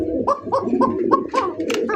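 A pair of domestic pigeons at a pigeon farm coo up close in repeated, rhythmic calls about every quarter second, and a few sharper notes sound near the end.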